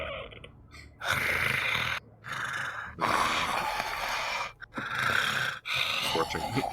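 A voice imitates a D&D creature's horrible breathing with harsh, raspy gasps and snorts in several long bursts separated by short pauses, close and loud.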